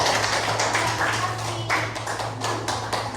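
Classmates in a school classroom applaud, a brief burst of dense clapping held at a fairly even level for a few seconds.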